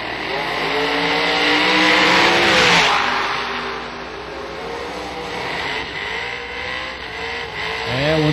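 A race dragster roaring down a drag strip at a million-dollar bracket event, a loud sustained engine blast that swells, dips and swells again as it passes.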